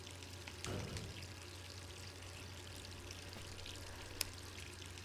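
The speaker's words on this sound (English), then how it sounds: "Ah, left the water running." Water runs steadily from a tap in the survival-horror game Resident Evil 3, a soft continuous pour and trickle with a brief splash near the start and a sharp click toward the end.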